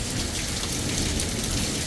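Heavy rain pouring during a lightning storm, a dense, loud, steady hiss of drops hitting surfaces, with no pauses and no voices.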